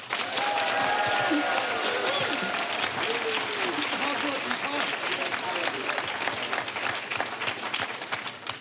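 A studio audience claps in a continuous wash while a voice speaks over it, the applause holding steady before thinning toward the end.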